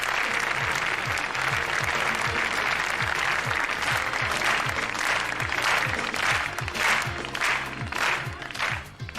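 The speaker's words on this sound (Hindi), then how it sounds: "जोरदार तालियां" Loud audience applause at a music concert, a dense sustained wash of clapping from a large crowd that rises and then thins slightly toward the end.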